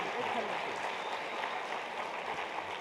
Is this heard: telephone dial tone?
no